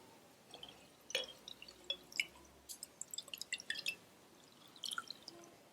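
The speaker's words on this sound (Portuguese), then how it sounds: "E já deixo a minha semente aqui na peneira, drenando" Water drips in scattered, irregular plinks from soaked seeds draining in a sieve, faint and close over a quiet background.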